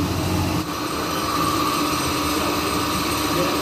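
A 1994 Honda Astrea Grand motorcycle engine idles steadily at an official service workshop, a constant droning hum with no pauses, close and fairly loud.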